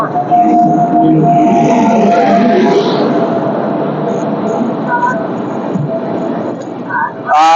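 A train pulls into a station on the route from West Bengal to Ayodhya, a loud continuous rumble and hum filling the scene with a faint squeal near the end and crowd noise around it.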